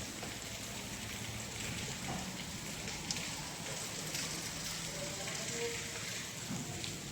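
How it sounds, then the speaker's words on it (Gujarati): Rain falls on a day of widespread rain, a quiet, even patter and hiss throughout with one faint knock partway through and a faint murmur under it. "આજે તો લગભગ જગ્યાએ વરસાદ છે।"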